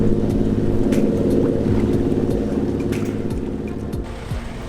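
Low, steady motor rumble of a boat engine running continuously, fairly close, slowly easing off toward the end.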